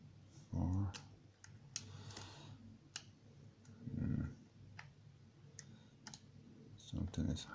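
Small, sharp clicks come from a lock pick working the pins of a 6-pin euro cylinder lock, sparse and irregular at close range, with someone speaking quietly between them.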